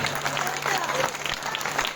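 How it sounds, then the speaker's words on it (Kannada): An audience claps loudly and steadily through a patriotic speech at a public event, a dense wash of many hands close by with a faint voice under it. "ಜೋರಾಗಿ ಚಪ್ಪಾಳೆಯನ್ನ ತಟ್ಟು"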